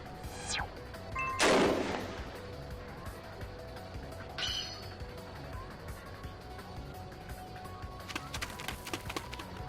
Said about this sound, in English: That's a 12th report of gunfire today.